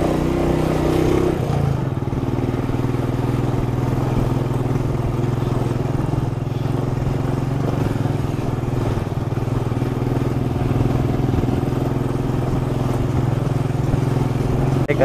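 A motorcycle engine labors in first gear up a steep climb on a mountain road between Dalhousie and Dharamshala, with a steady, loud, close drone that holds throughout and has no pauses.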